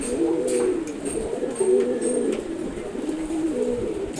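Pigeons coo steadily inside a loft, including silver-colored birds, their low rolling calls overlapping in a continuous warble with no talk.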